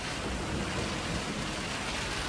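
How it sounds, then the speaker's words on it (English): Steady heavy rain pours down close by during a nearby lightning storm aboard a boat, with low thunder rumbling beneath the continuous hiss; no one speaks. "I don't think we've ever been so close to lightning before"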